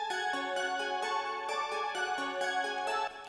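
Ringing synth bells in FL Studio repeat a quick plucked pattern for a trap beat while piano notes fill the gaps, a smooth, reverberant melody that stops abruptly.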